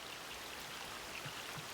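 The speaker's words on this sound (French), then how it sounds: "parce que la pluie arrête pas" Steady rain falling outdoors, a soft continuous hiss with faint scattered drop patters, quiet and even throughout with no voices.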